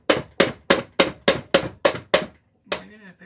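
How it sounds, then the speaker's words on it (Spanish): Eight sharp hammer blows land at a steady rhythm on a Honda Biz C100 motorcycle engine during disassembly, loud and close, followed by a brief metallic scrape. "Ahí vamos con el martillo."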